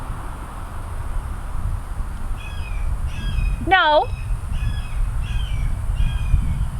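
A hawk gives one sharp, descending outdoor call over steady wind noise, with a few fainter chirps around it. A person says a single word just before.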